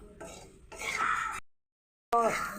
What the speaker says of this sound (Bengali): সয়াবিন দিয়ে দিলাম ভালো করে একটু কষলাম